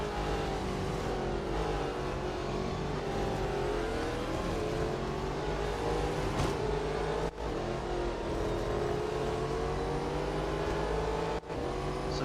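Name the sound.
race cars in the video game Real Racing 3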